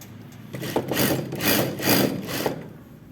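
A sewing machine runs in a few short bursts, stitching the zipper seam at the back of a pleated skirt with a 2.5 to 3 stitch length; the close mechanical whir rises and falls with no talk.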